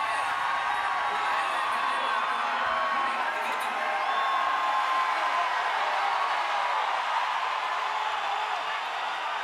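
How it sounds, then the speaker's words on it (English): A stadium crowd of over 40,000 roars at a boxing match, a dense and sustained wall of cheering and whooping that holds steady at a loud level throughout. "And the crowd roars as they have not all night long"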